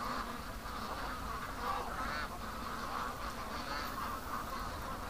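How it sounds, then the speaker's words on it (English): A large flock of geese and ducks heading home, with geese honking and ducks quacking in a dense, continuous clamor at steady volume throughout. "It's a mess of ducks coming home, guys. The geese are leading it."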